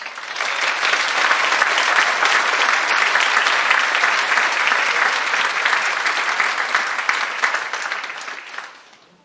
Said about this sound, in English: If we could have one final round of applause.